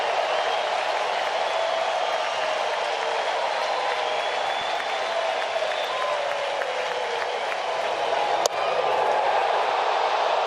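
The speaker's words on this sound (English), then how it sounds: "Crowd on its feet." A baseball stadium crowd at a Mets vs Braves game cheers and applauds on its feet in a steady, dense roar that swells slightly near the end.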